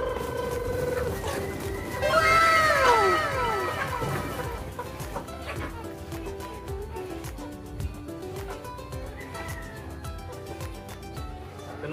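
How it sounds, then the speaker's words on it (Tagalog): Rhode Island Red cross Hubbard chickens cluck and call in a coop at feeding time, one loud rising squawk early on followed by scattered nearby clucks and the rustle of birds moving about. "Ito na sila mga chicken, yung mga Rhode Island Red Cross Hubbard"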